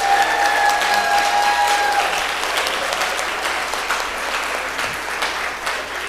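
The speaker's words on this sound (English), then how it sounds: "So let's give our pitches a round of applause." An audience at a workforce pitch competition applauds the pitch presenters, a steady dense round of clapping that stays loud and even for about six seconds, with a few tonal whistle-like streaks early on.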